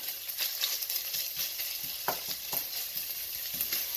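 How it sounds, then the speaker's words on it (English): Bacon sautéing in a pan for a chicken mushroom risotto gives a steady, close sizzle and crackle, with a few soft utensil scrapes as it is stirred and no voices. "I'm going to go ahead and get this all sauteed up. Looking yummy, crispy bacon."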